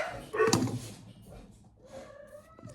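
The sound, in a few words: dogs barking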